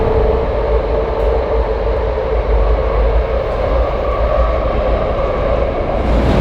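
Steady rumble and rolling hum inside a moving metro train in Taipei, a continuous low drone with a faint higher whine, no talking, unchanging throughout.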